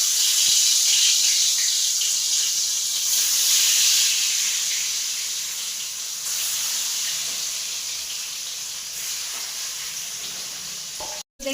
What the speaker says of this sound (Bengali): এবারে গরম তেলে মাছটাকে ফ্রাই করে নেব